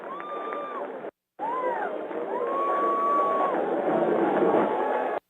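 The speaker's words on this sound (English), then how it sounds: "But it did wake up the Westchester home crowd, which is filling the stadium pretty well here" A stadium home crowd at a college football game roars and cheers after a touchdown, a broad sustained swell of voices with whistles and whoops rising on top, heard from a distance through a broadcast feed.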